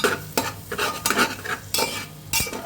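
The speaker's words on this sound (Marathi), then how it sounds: "जे गार्लिक आहे ते मी टाकणार आहे, चॉप केलेले बारीक ऑनियन, त्याला व्यवस्थित असे सॉटे करायचं आहे" Garlic and finely chopped onion sautéing in a pan, with repeated scraping stirs of a utensil over a soft sizzle, close and alone.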